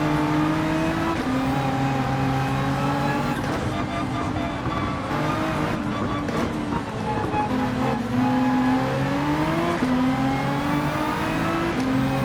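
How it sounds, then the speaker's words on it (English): A Nissan GT-R engine roars loudly in Gran Turismo 7, its pitch climbing and dropping through gear shifts as it accelerates out of turns, with faint speech underneath. "This Nissan GTR handling the acceleration coming out of turns really well"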